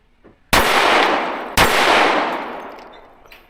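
Two sharp, loud shots from a Daniel Defense H9 pistol ring out about a second apart, each with a long decaying echo trailing into the open air.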